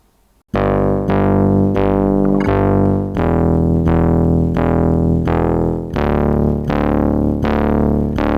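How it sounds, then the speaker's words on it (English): A Yamaha PSR-12 keyboard plays a gritty, buzzy bass synth line, nine or ten distinct sustained notes struck in a steady rhythm, each with a sharp attack and slow decay, loud and alone with no talking. "this sound would make a really great option for a bass synthesizer sound"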